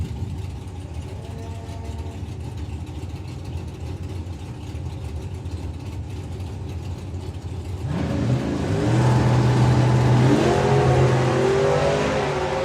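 Drag racing cars launching down the strip at the STP National Finals, with an engine idling low before a sudden loud surge as the cars roar away, the tone climbing and sustaining at high volume.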